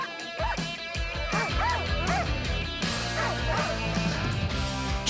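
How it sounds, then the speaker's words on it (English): Sled dogs in Montana bark and yip in a loud, crowded chorus, with overlapping sharp barks and rising, whiny yelps repeating rapidly throughout. "Jenny Roddewig breeds sled dogs"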